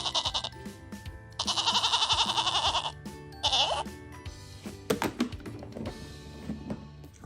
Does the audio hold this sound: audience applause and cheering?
no